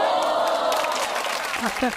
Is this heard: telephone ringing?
no